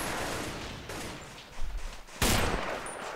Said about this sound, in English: and they got machine guns up